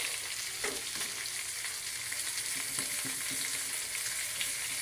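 Garlic, onion, chili and tomato sauté in a pan for a home-style tilapia dish, giving a steady close sizzle with a few soft stirring scrapes and no talk.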